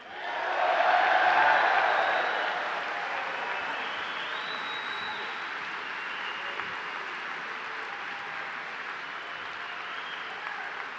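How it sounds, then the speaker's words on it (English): Applause from a ceremony audience greeting a graduating class, swelling loud at the start and then settling into a long, steady, fainter clatter of hands that carries on without talk. "let's give a round of applause to Class of 21"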